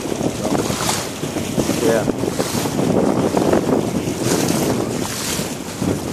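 Wind gusting at a harbour lined with old wooden ships in Sønderborg, buffeting the microphone in continuous loud rushes while a voice speaks briefly over it.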